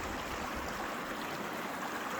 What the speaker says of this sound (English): this creek was a nice place to water up